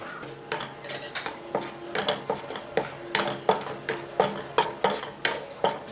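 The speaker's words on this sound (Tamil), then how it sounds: "இந்த நெய்யில் நான் முந்திரி வறுத்து எடுத்துக்கிறேன்." Cashews roasting in ghee in a pan while a spoon stirs them, with repeated metallic scrapes and clinks in a steady rhythm over a soft frying hiss, close and fairly quiet, no talk.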